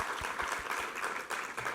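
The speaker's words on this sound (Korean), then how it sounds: "우리 하나님께 감사와 영광의 박수 올려드리겠습니다." Congregation clapping during a Korean church worship service, a brief moderate burst of many hands with a few distinct close claps, fairly soft and roomy.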